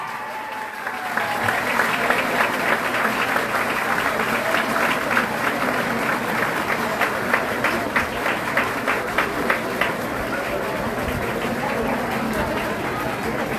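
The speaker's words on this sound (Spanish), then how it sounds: "el aplauso para los amigos del Instituto Alejandro de Humboldt" Applause breaks out for performers from Instituto Alejandro de Humboldt at a solo competition during the Sonzacate festival, many hands clapping steadily and loudly, with rhythmic clapping emerging in the middle under some crowd voices.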